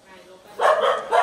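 Dogs bark in short loud bursts during the first day of the Ganpati festival at home, with a voice speaking nearby.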